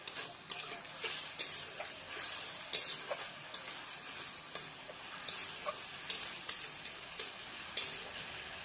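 Eggplant and salted hilsa curry bubbling and sizzling in a pan over a high flame, with a steady hiss, frequent short spoon-stirring scrapes and clinks, close and fairly quiet, no talking.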